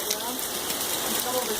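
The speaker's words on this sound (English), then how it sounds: "Oh, it's just pouring." Heavy rain pours down outdoors in Oregon, a loud, steady hiss of dense drops close by with faint talk underneath.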